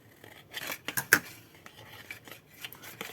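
Scissors snip bevels into paper for a pop-up craft box, a few close crisp cuts and slides with light rasping between, no talking.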